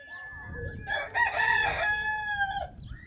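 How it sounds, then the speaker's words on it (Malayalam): A rooster crows in one long, clear call at a farm in Ambury Regional Park, Auckland, with a few softer clucks and bird calls around it, close and loud over light outdoor noise. "ആ ചെറിയ കൂടാരത്തിൻ്റെ ഉള്ളിൽ കോഴികളാണ്."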